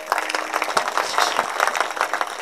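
An audience at a kirtan claps loudly in a steady rapid patter, a dense crowd applause filling the whole moment.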